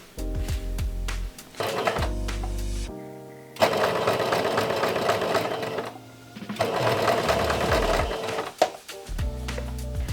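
A sewing machine stitches pin tucks in repeated close bursts, its motor whirring and needle clattering rapidly, stopping and restarting several times with short quiet gaps between runs.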